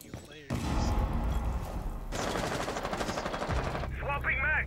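Rapid automatic gunfire rattles through a Rainbow Six gunfight in dense, sustained bursts, loud and close, with a brief pause before another stretch of shooting and a voice surfacing near the end.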